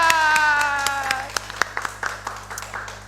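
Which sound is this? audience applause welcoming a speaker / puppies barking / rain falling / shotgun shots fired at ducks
audience applause welcoming a speaker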